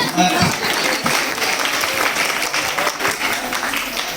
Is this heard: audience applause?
yes